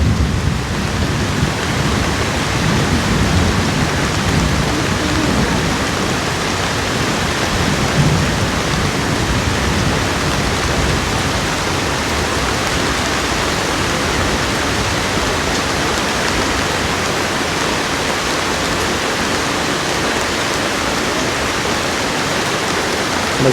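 Steady, heavy rain pours down without a break for over twenty seconds, a loud, dense hiss with no speech over it.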